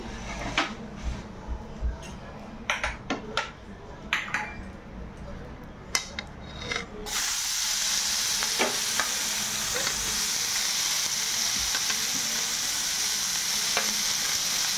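Chopped onion, ginger and garlic hit hot oil for a lai sag fish dish, with spoon clinks and scrapes first, then a sudden loud, continuous sizzle that stays steady with occasional stirring taps.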